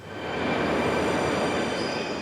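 A Moscow metro train runs with a steady, loud rumble of wheels and carriage noise that fills the whole stretch, with no voices over it.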